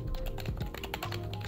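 Fingers type on a new computer keyboard bought off Amazon, a quick, close run of light clacking keystrokes with no talk over them.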